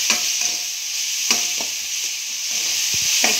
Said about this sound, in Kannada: ಒಂದು ಸ್ವಲ್ಪ ಎಣ್ಣೆ ಒಳಗೆ ಮಿಕ್ಸ್ ಮಾಡ್ಕೊಂಡ್ಬಿಟ್ಟು ಅರಿಶಿನ ಪುಡಿ ಹಾಕಿದ್ದೀನಿ ಸ್ವಲ್ಪ